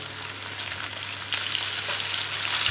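Katla fish pieces frying in hot oil make a continuous close hiss and sizzle with faint crackle, rising slightly in loudness partway through, no voices.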